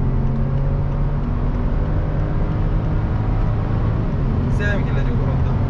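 A BMW 535xi E61 wagon tuned to about 370 hp with a JB4 module, driven at full throttle on a country road, a loud steady engine drone and road roar heard from inside the cabin.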